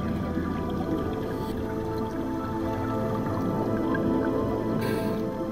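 Excess air from a solar-powered compressor hose bubbling out underwater on a Mauritius undersea walk, a continuous gurgling wash of bubbles that is steady and close throughout.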